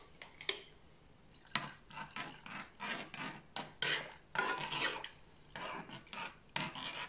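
Homemade toilet cleaning gel being stirred in a container, giving a series of intermittent scraping, clinking and sloshing bursts that repeat at an irregular pace, close up and fairly quiet, with no talking.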